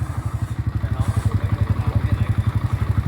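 A motorcycle engine idles close by with a steady, even chugging pulse that holds throughout.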